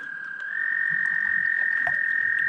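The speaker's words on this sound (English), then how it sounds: "They're just trying to mate in the water." Around thirty toads mating in the water, their croaks merging into a loud continuous trill that swells after a moment and holds steady, with scattered low croaks underneath and no voices.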